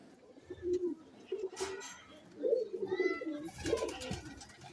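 Pigeons in a loft give close, clear repeated cooing phrases in several bursts, with some faint rustling and softer background sounds between calls.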